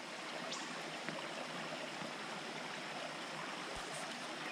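Creek water rushes steadily at a trail crossing on Meigs Creek Trail in the Great Smoky Mountains, a continuous broad hiss of flowing stream, close and even with no voices.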